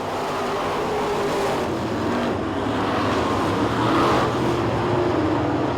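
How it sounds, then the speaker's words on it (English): Pure stock race cars roar around a speedway in a continuous, loud wash of engine noise, the sound swelling slightly as the pack passes. "Andy Stewart driving his pure stock machine that he races here and at Swainsboro and over at Screven."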